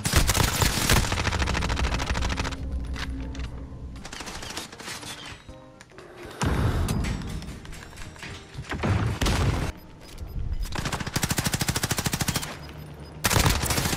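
Call of Duty gunfire in bursts: loud, close automatic weapon fire with heavy booming shots, broken by short pauses across the stretch.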